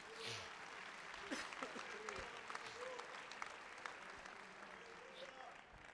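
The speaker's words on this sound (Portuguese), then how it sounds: "Vamos aplaudir ao Senhor, meus amados." Church congregation applauding during an evening service, a steady wash of clapping heard at a distance and fairly faint, with voices mixed in beneath it.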